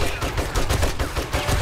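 Rapid submachine gun fire in 7 Days to Die, a short dense stream of close, loud shots lasting under two seconds.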